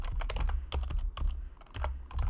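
Rapid clicking of a computer keyboard as text is typed into a FiveM game server config file, keys struck close by in quick irregular bursts with brief pauses, no voices.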